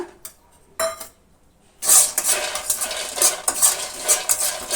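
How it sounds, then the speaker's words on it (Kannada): Peanuts dry-roasting in a pan on a stove for a sweet recipe, stirred with a utensil. After a couple of quiet clinks the scraping and rattling turn steady, with bright metallic clinks recurring close by and no voices. "ಕಡಲೆ ಬೀಜ ಹುರಿದಿದ್ದಾಯಿತು ನೋಡಿ ಫ್ರೆಂಡ್ಸ್ ಈ ರೀತಿ ಹುರಿಬೇಕು"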